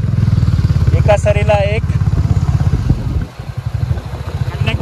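A motorcycle rides along a road through green countryside, its engine a close, steady low drone that runs throughout with a brief dip near the end, while riders talk over it.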